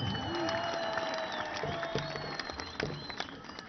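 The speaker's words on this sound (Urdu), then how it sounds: "ایک بڑی تالی تو بنتی ہے نا" Crowd applause at a large PTI political rally in Quetta, Pakistan, a broad wash of clapping and crowd noise with tonal voices or chanting layered over it, fading slightly toward the end.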